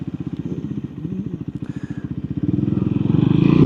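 A Triumph Scrambler 400X motorcycle on the move, its single-cylinder engine thumping in a rapid, steady pulse that rises in pace toward the end, heard close with light wind noise.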